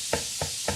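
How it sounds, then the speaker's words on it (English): Three evenly spaced knife chops slice through green onion on a cutting board, each a short close thud-and-tap with brief quiet gaps between them. "And I am going to chop up some green onion."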